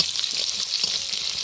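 Chopped onion fries with prawns in hot oil tempered with whole cumin, fennel, nigella and radhuni, giving a steady hissing sizzle, close and even throughout with no one talking.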